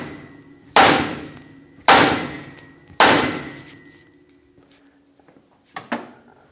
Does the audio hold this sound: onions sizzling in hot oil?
no